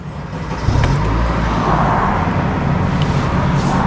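A Honda Civic Type R FN2 engine, high-mileage and fitted with a jump pack, catches and settles into a loud, steady idle after a brief crank, with no talking.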